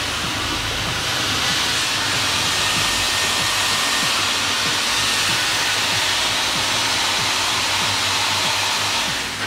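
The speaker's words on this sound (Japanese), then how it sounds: "ダイソンのスタイラーでやります。" A Dyson styler hair dryer blows a loud, continuous airy hiss with a low rumble underneath, steady and close for the whole stretch.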